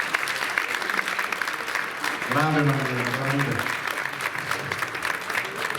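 An audience in Sala Europa, Taglio di Po, applauds steadily during a music evening, with a voice speaking over the sustained clapping partway through.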